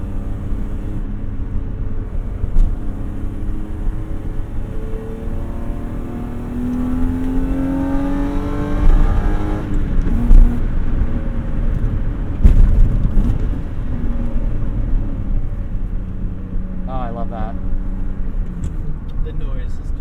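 A BMW E30 with an S52 engine swap accelerates on the road, its engine note sweeping upward and then settling, heard from inside the car with people talking over it.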